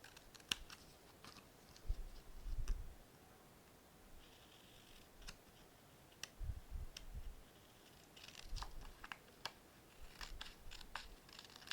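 Scissors trimming white edges off paper for a scrapbook page, faint intermittent snips and rustles spaced irregularly in a quiet room, with soft handling noises between cuts.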